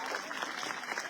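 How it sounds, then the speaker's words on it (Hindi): Applause from a crowd at a Lok Sabha election rally in Jalandhar North, steady dense clapping filling the whole short moment, fairly loud and continuous with no clear break. "यहाँ के नौजवानों के लिए एक बार जोरदार तालियां होनी चाहिए।"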